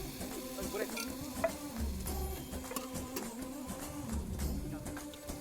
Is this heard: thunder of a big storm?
no